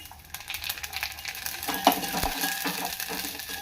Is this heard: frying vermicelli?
yes